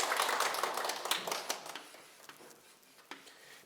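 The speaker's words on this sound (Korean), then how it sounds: "큰 박수 부탁드립니다." A Buddhist Sunday service audience gives a round of applause, many hands clapping at first and then tapering off to scattered individual claps over a few seconds.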